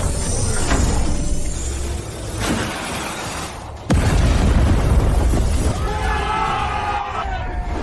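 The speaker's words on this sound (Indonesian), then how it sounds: "Meledak." A loud video game explosion erupts with a sharp crack, followed by a roaring, debris-filled rumble and crashing noise that trails off.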